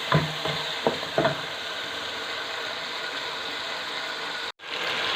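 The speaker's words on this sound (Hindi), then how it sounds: "अच्छे से हम भून लेंगे" Tomatoes with masala for chicken chana fry in a pan, a steady sizzle throughout with a few sharp spoon scrapes and taps near the start, then a brief break near the end before the frying resumes.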